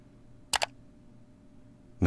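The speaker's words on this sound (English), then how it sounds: "That was a mouse click sound." A crisp double mouse click sound effect sounds close and sharp against near silence, followed by the onset of another brief burst at the end.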